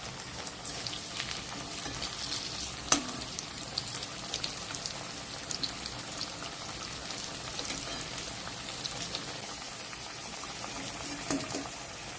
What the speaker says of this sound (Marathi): मी आता तळणार आहे